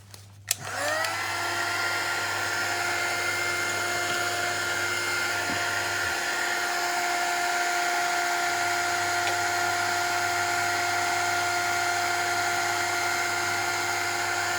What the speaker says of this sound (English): So first the heat gun.